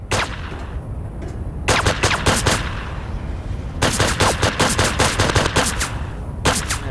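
Rapid bursts of automatic gunfire from the video game Project IGI, a first burst near the middle and a longer, denser stretch later, loud and close over a steady background rumble, with no talk.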